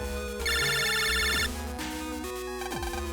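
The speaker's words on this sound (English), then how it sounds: "it's a phone call" A phone ringtone in the Mega Man Battle Network 3 video game: a loud electronic trill ringing for about a second over a chiptune soundtrack that keeps playing.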